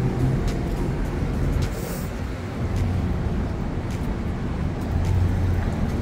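A bus and other traffic roll along a downtown city street in Regina, making a steady, moderately loud engine rumble and road noise throughout, with no talking.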